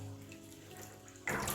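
Water in a bathroom sink after a straight razor shave, a low gurgling drain giving way to a sudden loud rush of running tap water near the end, close by with no voices.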